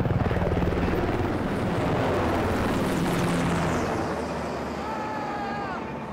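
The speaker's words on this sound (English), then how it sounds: "We brought in a couple HH-60 Pave Hawk helicopters." Military HH-60 Pave Hawk helicopters roar nearby, a loud rotor thump and engine whine that stays dense for several seconds before easing slightly.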